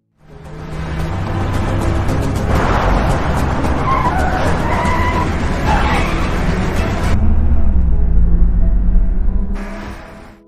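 Car chase in a zombie film, with engines roaring and tires skidding and squealing loudly for several seconds, the engine surging before a sudden cut, with speech mixed in.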